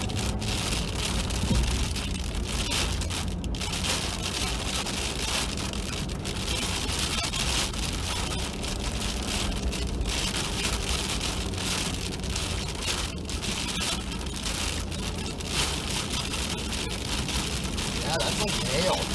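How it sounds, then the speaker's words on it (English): During a 2022 snowstorm, freezing rain mixed with hail pelts surfaces in a loud, dense, unbroken hiss and patter for the whole stretch, with a voice heard faintly now and then underneath. "we got some more freezing rain coming into this mix. That's getting really loud."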